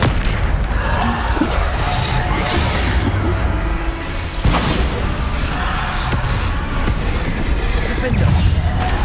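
Bombarda blasting spell explosions in Hogwarts Legacy, a dense run of heavy booming blasts and bursts in quick succession amid game combat noise, with voices heard through it.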